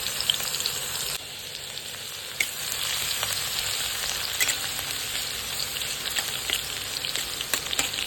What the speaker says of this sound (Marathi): त्याच्यामध्ये आता आपण ठेसलेला लसूण टाकून घेऊया